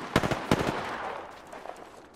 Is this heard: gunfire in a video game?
yes